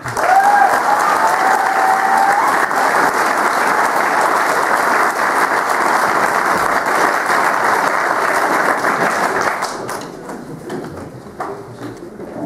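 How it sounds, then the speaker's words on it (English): An audience at a 2011 school farewell gives its teachers a loud, sustained round of applause that fills the space, with a few whistles near the start before the clapping thins out toward the end. "round of applause for our teachers"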